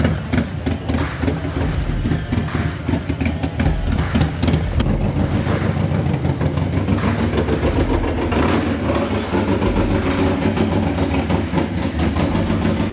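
A Harley Lowrider S motorcycle with a 114ci engine and stage 2 cam idles while warming up, a loud, close, lumpy rumble with uneven pulsing beats throughout, no talk.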